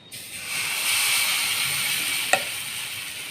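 Dosa batter is poured onto a hot pan and spread thin, starting a loud steady sizzle and hiss close by, with one sharp tap partway through.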